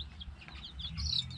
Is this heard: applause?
no